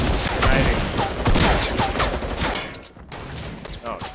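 Rapid gunfire in the Fortnite video game, a dense, loud fusillade of overlapping shots that thins out briefly near the end, with a player's voice mixed in.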